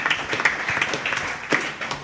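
A round of applause for football club coach Dean Hammond at a live podcast recording, steady mid-level clapping from an audience with a few louder claps standing out.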